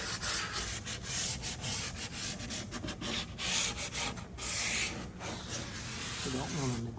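Steady hand sanding, a rough abrasive rubbing back and forth across wood close up, continuous with short rhythmic strokes.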